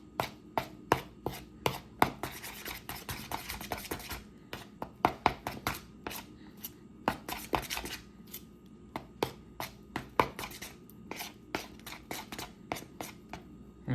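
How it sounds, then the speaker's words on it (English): Peanut butter being mixed into whipped topping in a bowl, heard as steady, close, sharp repeated scraping taps of a utensil against the bowl with no talking. "mix it all in until it's fully incorporated"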